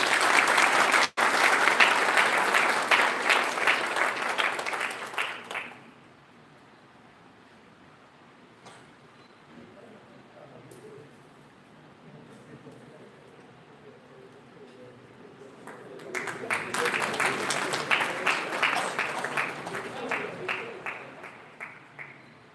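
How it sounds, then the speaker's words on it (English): Students at an international conference give a big round of applause: dense clapping for about six seconds, a quieter stretch of room murmur, then a second strong burst of clapping near the end. "big round of applause, students"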